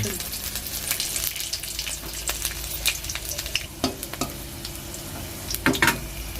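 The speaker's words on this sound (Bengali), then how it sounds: "এবার আমি একটু ফোড়ন দেব নতুন ফোড়ন লঙ্কা" Green chilli and garlic frying in oil as a tempering for egg dalna, a close, continuous sizzle with crackling spits and a few sharp pops and stirring scrapes, no voices.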